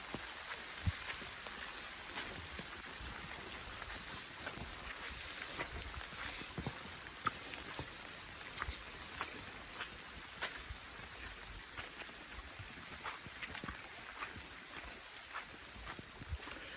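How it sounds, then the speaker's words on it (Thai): Steady rain falling on a forest hiking trail in England, a continuous dense patter with occasional louder drops, no voices. "นี่คือเสียงฝนนะคะ ฝนลงเม็ดครับ"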